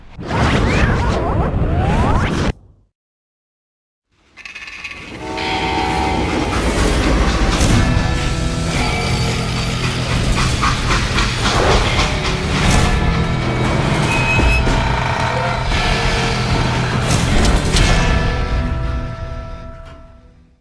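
A train in Call of Juarez: Gunslinger rumbles along steadily with clanking and rattling, loud and continuous, after a brief whooshing burst and a short silence.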